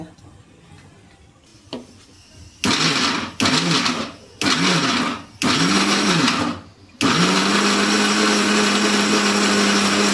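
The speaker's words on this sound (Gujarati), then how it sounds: "પ્યોરી તૈયાર કરશું અને સરસ મજાની પીસી લેશું તમાલપત્ર પણ સાથે પીસી લેશું" A kitchen mixer grinder blends tomato puree with bay leaf in loud bursts: several short pulses of a few seconds each, then a steady continuous whir at the end, with no talk.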